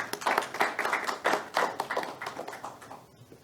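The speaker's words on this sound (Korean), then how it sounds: "큰 박수 부탁드리겠습니다" A crowd applauding at a sports and peace forum session, with dense, lively clapping that keeps a loose rhythm before fading out at the end.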